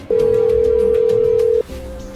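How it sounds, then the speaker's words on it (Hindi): A steady electronic phone tone holds for about a second and a half, loud and close, then cuts off abruptly, leaving quiet room noise. "उसने तुरंत मेहका को फोन किया।"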